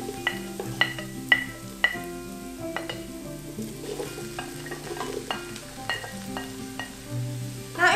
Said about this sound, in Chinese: 我们就把老姜老姜，然后干香菇跟芋头一起放下去炒